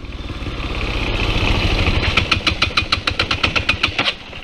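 A Honda NX motorcycle engine revs hard and misfires at high revs, first as a steady roar, then as a rapid stuttering chain of popping cut-outs, loud and close.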